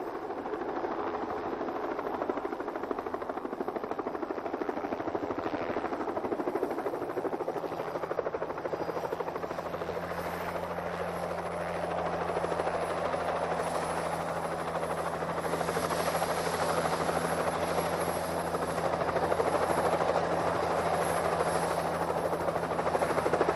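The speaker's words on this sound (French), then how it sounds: "Un hélicoptère." A helicopter droning steadily with a constant rotor hum and whine, holding an even level the whole time without pauses.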